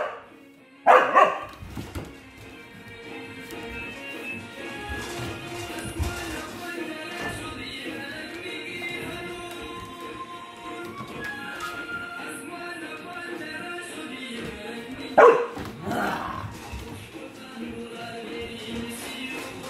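A big dog barks in short bursts, loudest near the start and again around the middle, over a steady background hum.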